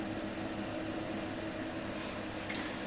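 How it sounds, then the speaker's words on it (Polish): A Dr. Burg Klimarex-Kamin fan heater from Vienna runs on fan only with no heat, giving a steady, even whirring hum with broadband airflow noise that holds constant throughout, close and alone. "Jak słyszycie, urządzenie zaczyna bardzo ładnie pracować. W tej chwili mamy uruchomiony sam wentylatorek."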